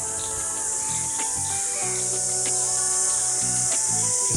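Cicadas droning in the open air near Mumbai, a steady high-pitched buzz held throughout, with faint tonal background sounds underneath and no talking.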